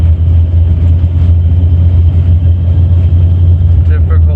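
A 1994 Chevy truck with throttle body injection rumbles steadily while driving, a loud low engine drone inside the cab, with speech probably present.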